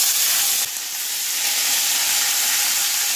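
Onion paste hits hot oil in a pan for a Bengali spicy lote fish kosha, giving a loud, steady, close sizzle that carries unbroken through the whole stretch with no talking.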